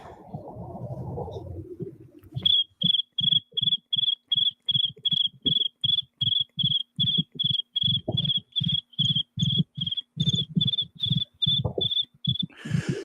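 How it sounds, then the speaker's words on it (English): A long run of steady cricket chirps, evenly pulsed and loud, continuing alone for over ten seconds after a brief low rumble at the start. "That might have been the longest crickets ever in the history of the channel."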